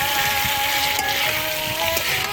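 Potatoes fry in hot oil in a pan, giving a continuous close crackling sizzle with steady bubbling and occasional faint clinks, loud and unbroken throughout.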